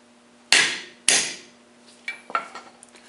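A hammer drives a new bearing into a Chamberlain garage door opener gear through a socket: two sharp, loud metallic strikes about half a second apart, then a quicker run of lighter taps, with no talking.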